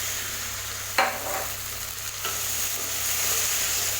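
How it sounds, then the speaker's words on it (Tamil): Onions and tomatoes sauté in a pan for bittergourd kulambu, giving a steady close sizzle with a sharp spatula scrape near the start and a few softer stirring clinks, no voices. "தக்காளியும் நல்லா வதக்கிக்கலாம்."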